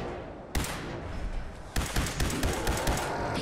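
Gunfire in the Fallout 4 video game, a loud close burst of rapid shots. One crack comes first, then a dense rattling volley of repeated bangs continues to the end with no talk over it.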